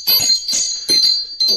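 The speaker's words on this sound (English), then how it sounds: "the tinkly bells announce the return of Estes and Hum." Small tinkly bells ring out in several short bursts spaced through a tabletop role-playing game session, bright and close, with brief quiet gaps between jingles.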